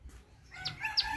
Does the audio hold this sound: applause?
no